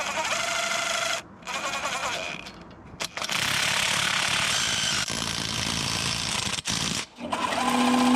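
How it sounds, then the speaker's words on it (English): An impact gun spinning a wheel nut onto a stud in the hub of a Ford Escort Mk2, loud sustained rattling bursts with brief pauses between them, close up. "literally just gonna gun this nut on and it will pull the stud into the hub"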